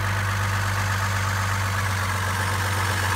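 A 2003 Chevrolet Trailblazer's 4.2-litre inline six runs at a steady idle on an engine test, a loud, even low rumble with constant mechanical hum and no voices.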